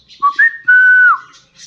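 A pet female parrot gives a clear, loud whistle: two short rising chirps, then one long sustained tone that bends downward at the end, heard alone and close by.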